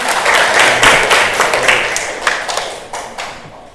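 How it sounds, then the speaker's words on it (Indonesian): Audience clapping hands at an Indonesian talk on local wisdom, a dense burst of many hands that stays loud for several seconds before thinning out near the end. "terima kasih, tepuk tangan"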